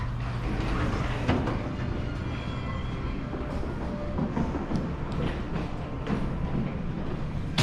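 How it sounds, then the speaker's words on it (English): A resort elevator at Disney's Boulder Ridge Villas travels downward with a steady mechanical hum and rumble, faint clicks and rattles running throughout at close range. "This elevator doesn't do anything, takes you up and down."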